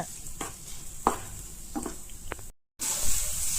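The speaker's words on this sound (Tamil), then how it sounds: "ஒரு முட்டையை உடச்சி ஊற்றிடுங்க முட்டை கருகாத மாதிரி அதை கிண்டி விட்டுட்டே இருங்க" Egg being stirred as it fries with chicken in a pan, steady soft sizzling with a few scrapes and taps of a spatula, then a brief dropout before the frying hiss returns louder.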